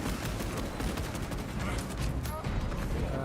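A Dreadnought firing in a Warhammer 3 battle, heard as dense, continuous rapid gunfire with sharp repeated cracks over a loud, busy wash of combat noise.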